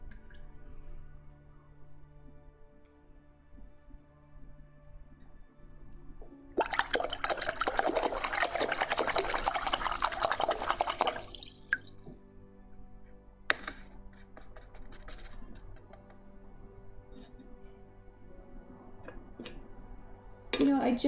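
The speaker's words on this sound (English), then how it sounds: "that will be super loud in your ear, the splashing water" Water splashes loudly and close for about five seconds in the middle, a dense rushing burst between quieter stretches of small clinks and handling noises.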